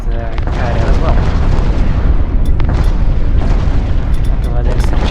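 Cannons in the space game Infinity: Battlescape pound away at a carrier, a dense continuous roar of booming blasts that stays loud throughout, with a voice speaking over it.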